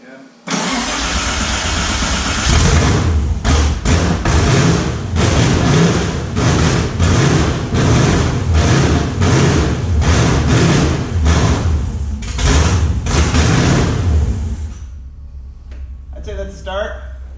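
A newly built engine fires up on a dyno and runs loud and steady, with a dense roar and repeated throttle blips, before cutting off near the end.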